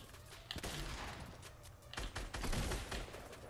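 Burst rifle gunfire in the Fortnite video game, rapid clusters of sharp shots firing in quick repeated bursts with loud impacts, fairly close and punchy.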